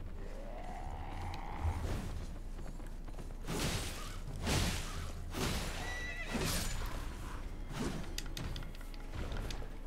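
Horses of mounted enemies in the video game Elden Ring neigh and whinny, with clip-clop hooves, creaks and swooshes, the bursts recurring over a steady low hum.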